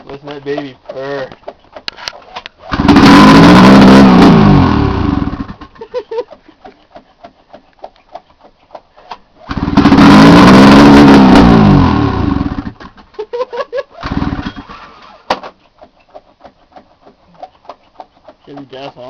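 A Ski-Doo MXZ snowmobile engine with a modified straight pipe exhaust fires up in two loud, raspy, buzzing runs of several seconds each, close by. Talk and small clatter fill the gaps between them.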